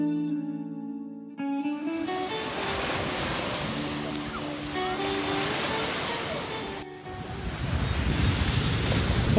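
Surf on the Lake Erie beach at Port Bruce, a steady broadband wash of waves with wind buffeting the microphone, loud and continuous after a short quiet start.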